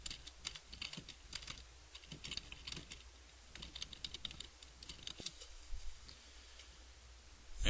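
Someone types text on a computer keyboard: quiet, irregular bursts of light key clicks with brief pauses between runs, close and alone without talk.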